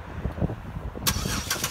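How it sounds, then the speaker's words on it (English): A 2011 Buick Lucerne CXL engine turning over by remote start, a broadband cranking burst at about the one-second mark that settles into a steady idle, heard from close by outside the car. "This one is equipped with remote start as well."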